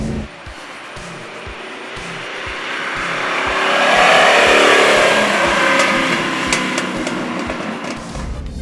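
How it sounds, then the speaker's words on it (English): A 1985 Lamborghini Jalpa's 3.5-liter engine revs and roars, building to a loud sustained peak and easing slightly, with rhythmic low thumps beneath the droning engine note. "Oh, that sound is excellent. It's stunning."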